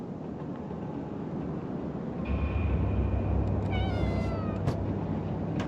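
A cat in the video game Conarium meows with a drawn-out, wavering cry over a low, steady ambient rumble, the call rising midway and fading out near the end.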